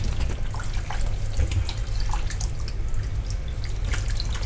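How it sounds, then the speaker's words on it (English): Tap water runs steadily into a sink while 2 kg of cut chicken pieces for biryani are washed, a close continuous splashing gush with small drips and clatter. "The chicken is nicely washed."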